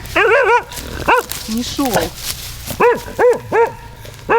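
A dog barks outdoors beside a campfire in a series of sharp, close barks with short yips and whines between them, while someone speaks briefly.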